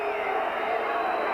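Football crowd at Tynecastle during stoppage time of a Hearts versus Slavia Prague UEFA Cup first-round match, a dense, continuous roar of massed voices filling the ground without break.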